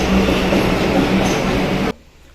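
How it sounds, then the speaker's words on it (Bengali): A Kolkata metro train pulls away from the platform with a loud, close rumble and rolling wheel noise that cuts off abruptly near the end. "মেট্রো তো পেলাম এক একটা দশে মেট্রোটা ছাড়লো"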